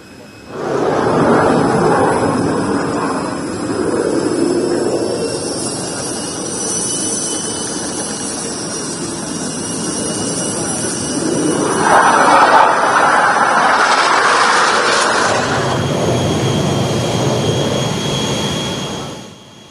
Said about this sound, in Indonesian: Pesawat Kerajaan Jordania Hashimiyah mendarat di Lanut Halim Perdana Kusuma pada Jumat sore kemarin.